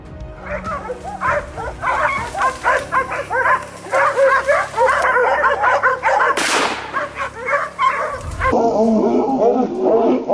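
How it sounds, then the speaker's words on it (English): Hunting dogs bark loudly and continuously at a cornered wild boar in a swamp, with several dogs yelping and baying close by in an overlapping rapid chorus and a sharp bang partway through. "our dogs suddenly burst into loud barking"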